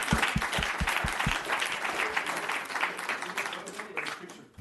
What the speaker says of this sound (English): With that, let's give them all a round of applause